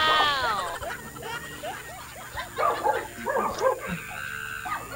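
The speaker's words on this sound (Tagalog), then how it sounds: "Yun, galit yung mga aso." Several dogs bark and yelp in quick, overlapping bursts, some whining, at moderate distance with a voice talking over them.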